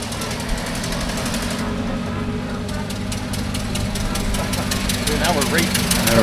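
Old cars racing at an old car festival in a historic village: close, loud engines with a rhythmic knocking putter that builds toward the end, while people talk over it.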